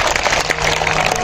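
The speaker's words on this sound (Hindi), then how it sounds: "जोर से तालियां बजाइए" Audience at a Hare Krishna devotional gathering applauding loudly, a dense, steady wash of many hands clapping at once with no gaps for the whole brief moment.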